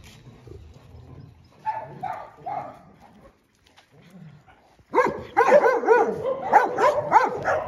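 Several dogs at a mountain home bark and yip. A few softer sounds come first, then loud, close, overlapping barking bursts out and keeps going to the end.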